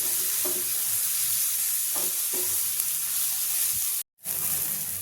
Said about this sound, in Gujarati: વાટેલા આદુ લસણ લઈ અને સાતળી લેવાના છે